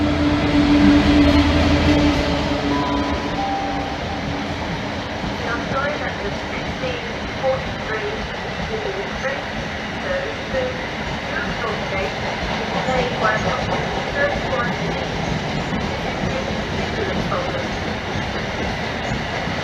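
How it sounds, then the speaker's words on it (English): Two-coach East Midlands Trains unit at a station platform, a steady rumble of rail noise with low engine drone, loudest at the start and continuing throughout. "This train is formed of 2 coaches."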